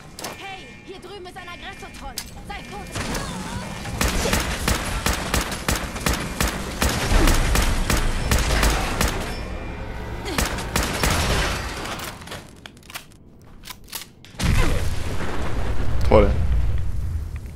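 Combat in Fallout 4 with rapid gunfire bursts and booming grenade explosions, loud and dense, with a brief lull before another blast erupts.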